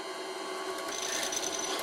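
Steady rasping scrape of a cutting tool on metal spinning at about 500 RPM on an old wood lathe, a continuous close grinding hiss with no speech.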